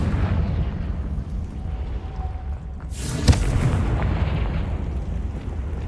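A Confringo blasting spell explodes in Hogwarts Legacy: a sudden loud boom with a sharp crack, set against a low rumbling ambience that swells and lingers afterward.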